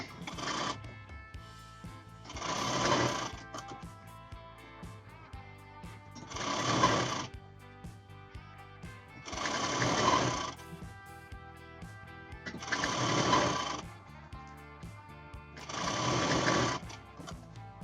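A sewing machine stitches along the waist part of a garment in six separate bursts of rapid, steady whirring. Quiet pauses fall between the bursts, and there is no talk.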